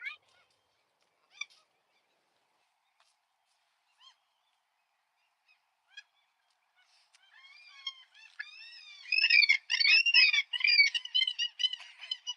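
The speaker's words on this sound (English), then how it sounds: "Oh, there's baby geese, Gilana." Sparse faint calls at first, then a loud chorus of geese and goslings honking and squawking together near the end, close by, at a playground.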